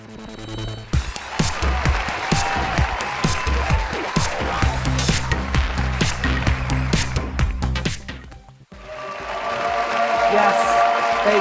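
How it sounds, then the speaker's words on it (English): Recorded audience cheer track of a live crowd applauding, clapping and cheering loudly and continuously, with a brief dip before the applause swells again to a full sustained roar. "Roll the cheer track!"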